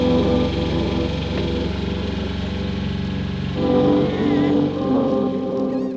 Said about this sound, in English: Your dad thinks he's fixed the engine.